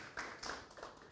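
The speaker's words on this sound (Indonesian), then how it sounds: "Kita tepuk tangan buat Dr. Dirga." An audience applauds a doctor at a health-hoax discussion event, with faint, scattered claps and taps at low level rather than a full ovation.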